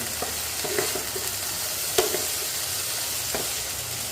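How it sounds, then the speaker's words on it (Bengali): Steamed cauliflower fries over a high flame with a constant soft sizzle, broken by a few sharp scraping and clinking stirs of a utensil against the pan. It sounds close and moderately quiet, and no one speaks. "এই ফুলকপিটা দিয়ে দিলাম, দিয়ে একটু হাই ফ্লেমে রেখে ফুলকপিটাকে একটু ভাজা ভাজা করে নেব।"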